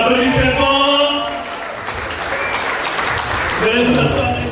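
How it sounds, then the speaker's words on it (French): Wedding guests applaud in a dense, sustained clatter of clapping from a sizable crowd, while an announcer speaks over it at the start and end. "On applaudit très fort."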